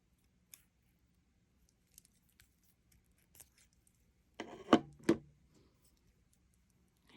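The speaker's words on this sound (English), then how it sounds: "now we're going to cut." Scissors snipping seed bead bracelet thread: two crisp, close cuts in quick succession, preceded by faint scattered ticks and handling clicks in a quiet room.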